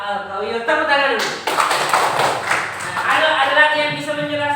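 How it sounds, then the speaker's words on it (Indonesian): Children in an Indonesian primary school classroom clap their hands together in a rhythmic group clap, close and fairly loud, with voices chattering over it. "Tepuk tangan dulu."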